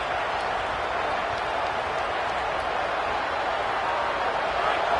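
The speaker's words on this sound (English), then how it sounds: "Here comes this home crowd as the defense tries to get off the field on third down" A home stadium crowd roars at a college football game on third down, a dense, loud, continuous wash of cheering that holds steady with no breaks.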